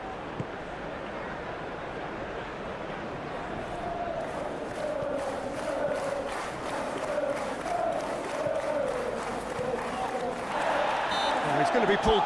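A stadium crowd in the PES 2021 football video game produces a dense, continuous roar of cheering that grows louder toward the end, with occasional claps.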